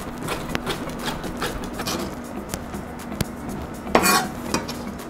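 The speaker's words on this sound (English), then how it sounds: "Now we're gonna take these and cut into strips also." A knife slices a seeded pepper into strips on a cutting board, giving a rapid series of sharp taps and clicks close by.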